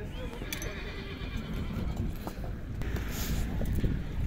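Horses at a livestock horse market in Sokuluk, Chüy, neigh and whinny amid a dense, steady crowd din, with hooves clip-clopping and background noise throughout.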